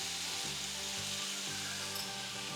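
Eggplant curry (ennai kathirikai) with tomatoes and salt sizzles softly in an oily pan while being sautéed, a faint, steady frying hiss with no voices.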